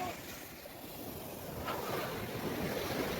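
Ocean surf at Pondicherry beach rolls in as a steady broadband wash, swelling slightly louder toward the end, with wind across the microphone and no clear breaks between waves.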